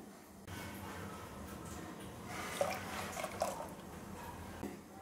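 Water poured into a mixer jar of grated coconut for grinding, while making paal kozhukattai; soft liquid splashes and drips, quiet and close.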